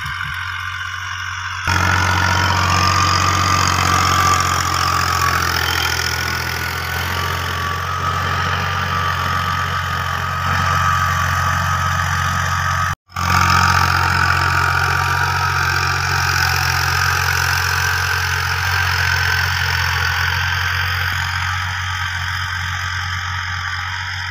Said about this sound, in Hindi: गाड़ी हमारी रोटर पे चल रही है।